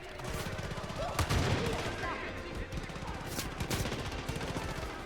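Gunfire in the video game Far Cry 5: a busy exchange of shots and bursts with some heavier reports, moderately loud, with game sounds and voices mixed underneath.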